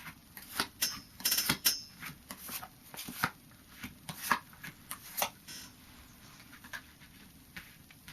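Tarot cards being shuffled in quick bursts of riffling and flicking, close by, with brief pauses between handfuls and no talking.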